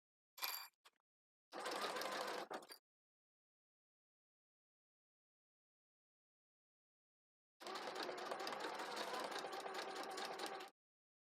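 A sewing machine stitches fabric pieces in two bursts, one short and one longer, with a brief sound at the start and silence in between; the sound is quiet and close.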